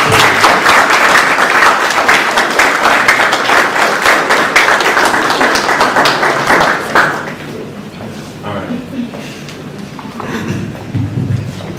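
An audience at a school event gives loud, sustained applause that fills the first seven seconds and then thins into scattered claps and room noise.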